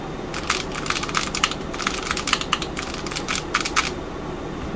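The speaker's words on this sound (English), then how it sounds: "It's a nice sounding keyboard too." Keys clatter on a vintage Apple IIe keyboard with a freshly replaced I key switch, a close, steady run of crisp clicks and clacks at an even, quick rhythm, with no voices over the typing.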